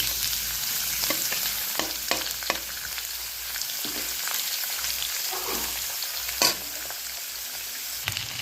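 Garlic drops into a pan of cooking pork and sizzles steadily, a continuous close crackle of frying with occasional sharper pops and spatters, no voices over it.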